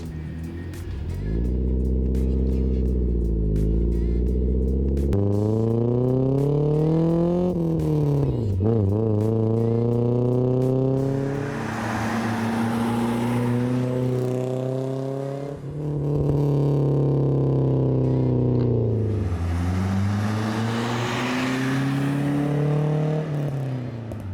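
A Mercedes 190E with a new custom exhaust passes by repeatedly with a deep, throaty note, engine revving up and easing off as it approaches and fades, loud and close.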